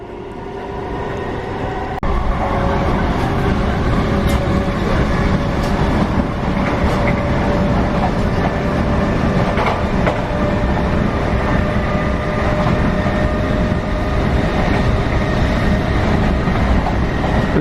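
Trains with locomotives at Mossend rail yard make a steady, fairly loud rail rumble with faint clanks and a distant hum, growing a little fuller after the first couple of seconds and holding without pause.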